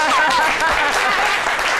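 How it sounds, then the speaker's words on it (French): Audience applauding loudly at a presentation, a short dense burst of clapping with crowd voices mixed in. "c'était donc Koloko Germain qu'on applaudit très fort."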